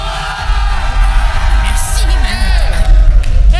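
A crowd at a Castlevania reaction event cheers for the cameraman with loud, sustained whoops, yells and shouts that swell and fall over several seconds.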